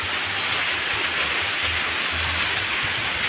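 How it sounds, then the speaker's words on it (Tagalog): Steady broadband hiss of heavy rain falling on farm fields, constant and fairly loud throughout with a low rumble underneath, no voices. "Ulan ang morning dito ngayon."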